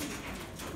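Racing pigeons coo in a loft, a soft continuous murmur of overlapping calls running steadily through the short moment with no talk.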